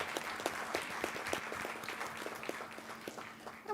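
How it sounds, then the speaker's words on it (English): An audience at a board of education meeting applauds award winners, a steady patter of many hands clapping at a moderate distance, continuing evenly throughout without talk. "I want us to give one more loud round of applause to all of our outstanding award winners this evening."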